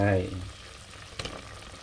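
Pork belly simmering in a pot as eggplant goes in, a sizzling, bubbling cooking hiss with a brief clatter near the start and a soft splash-like burst partway through.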